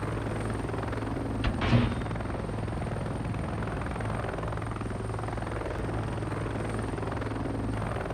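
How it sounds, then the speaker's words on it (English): Helicopter in the arcade-style combat game Heliborne, a steady loud rotor and turbine drone holding evenly throughout with a brief bump in noise near the start. "Heliborne is an arcade-style helicopter shooter."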